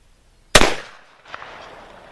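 A single sharp, loud shot from a Remington black powder revolver fired close by, with a sudden crack that decays quickly, then a brief softer rumble.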